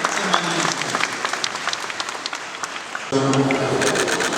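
Audience applause welcoming the Istanbul governor to the podium at an art exhibition opening, sustained clapping across the hall, with a voice speaking over it toward the end.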